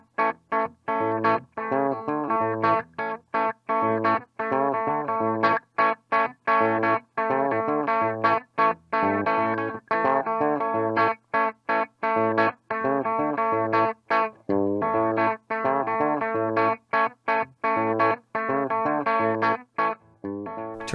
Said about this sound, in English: We'll start out with the amp on 3 just to hear the clean tone.